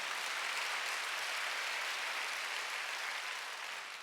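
Church congregation at a Korean Sunday worship service claps together, a faint but steady, even wash of many hands that continues without pause and without voices.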